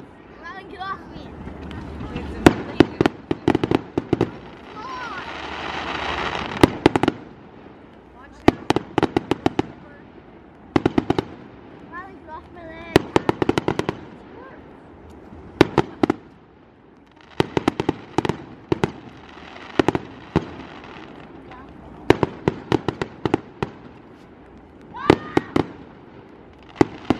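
Canada Day fireworks in 2018 burst in repeated sharp bangs, some in quick crackling clusters and some spaced apart, with a loud hiss or rumble between volleys, while people talk and chatter nearby.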